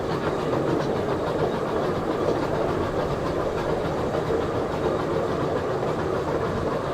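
The 1863 Safari Express zoo train at Sedgwick County Zoo keeps up a continuous clickety-clack of wheels on rails, loud and steady with no pauses.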